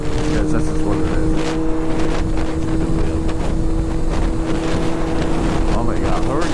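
A 2019 Kawasaki ZX6R motorcycle on the move gives a steady engine drone under heavy, constant wind buffeting.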